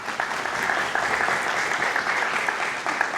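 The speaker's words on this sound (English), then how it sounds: "Give them a round of applause." Conference audience breaks into steady, dense applause that fills the room at close range, sustained evenly with no talk over it.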